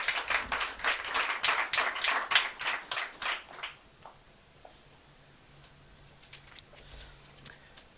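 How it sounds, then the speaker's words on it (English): Audience applause at a VW sponsorship launch event, a quick burst of rhythmic clapping from a modest crowd that fades out after a few seconds into near quiet with a few stray claps. "Can we give her a big round of applause?"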